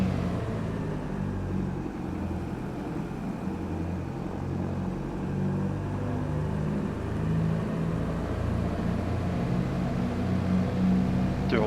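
Twin piston engines of a JustFlight Beech Duchess run up in a flight simulator game, a steady low droning hum with slight swells in pitch and level, continuous throughout and heard alone without speech.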